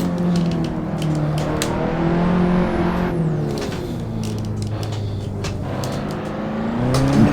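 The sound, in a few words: BMW E30 car engine in Assetto Corsa video game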